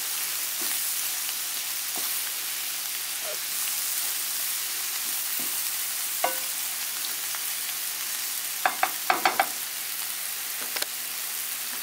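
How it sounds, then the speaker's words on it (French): Seafood pastilla filling with parsley and coriander sizzles steadily in a pan, a soft continuous frying hiss broken by a few faint scrapes and clicks of stirring, with no one speaking. "persil, coriandre, et je remue de temps en temps"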